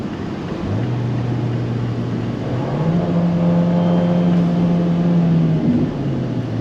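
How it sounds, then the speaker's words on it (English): A Fiat 124 Abarth engine drones steadily, its twin-port exhaust note rising in pitch as it revs up, held loud and close for several seconds. "the twin port exhaust, which sounds great"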